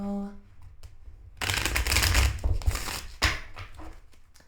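A burst of tarot card shuffling, a quick riffle of flapping paper lasting a couple of seconds, then a few softer snaps and settling taps.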